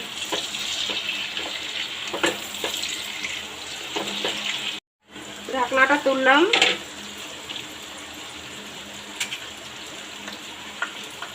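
Tomatoes frying in a pan for a rohu fish kofta curry give a continuous close sizzle with scattered crackles. The sound cuts out briefly, then returns with a short, louder rattling burst before settling back to a steady hiss.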